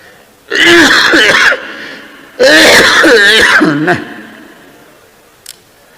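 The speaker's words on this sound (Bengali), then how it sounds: "স্বাভাবিক হচ্ছে না কাশি" A man coughs and clears his throat harshly in two long, rasping bouts, close and loud, followed by quiet.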